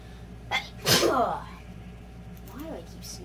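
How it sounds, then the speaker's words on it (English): A single sharp human sneeze bursts out loudly after a short inhaled catch, followed by quieter breathy sounds in an otherwise calm indoor room. "Why do I keep sneezing this morning?"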